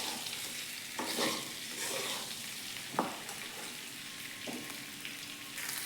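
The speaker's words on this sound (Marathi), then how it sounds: "बघा थोडे 1-2 मिनटं असलं आपण परतून घ्यायचं व्यवस्थित" Beetroot mixture sizzles softly in a pan while being stirred for beetroot laddu, a quiet, steady frying hiss with occasional scraping of the spoon.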